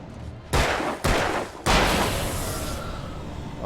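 Gunfire in the video game Alan Wake: three sharp, loud shots spaced about half a second apart, each leaving a long, decaying rumble that hangs on after the last blast, with no talking.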